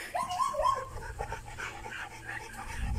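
A Labrador dog pants rapidly and close by, with a brief whimper near the start, in an outdoor yard among fallen apples.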